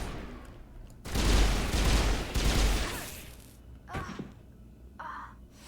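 Bursts of gunfire from the sci-fi shooter Mass Effect, a dense loud volley lasting about two seconds followed by a few scattered, fainter shots and impacts.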